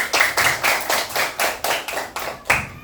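Children in an elementary classroom clap their hands together in unison, about ten sharp, evenly spaced claps in a quick steady rhythm, close and fairly loud, with no talking.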